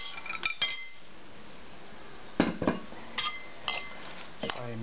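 Spoon clinking against a bowl while mayonnaise is stirred with celery and chopped hard-boiled egg for chicken causa limeña, a few scattered light clinks and scrapes close by with quiet pauses between.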